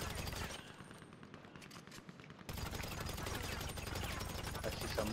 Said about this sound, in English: I'm shooting the ground to make sure it's safe.